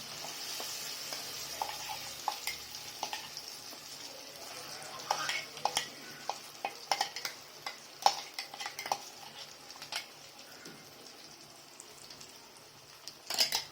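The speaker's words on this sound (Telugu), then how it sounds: "ఒకసారి పేస్ట్ అంతా ఇలా కలపండి బాగా చూడండి ఫ్రెండ్స్ ఇది బాగా ఇలా ఫ్రై అయ్యాక" Ginger paste fries in hot oil while being stirred for a Guntur-style ginger pickle, giving a faint, quiet sizzle broken by scattered soft spatula scrapes and taps.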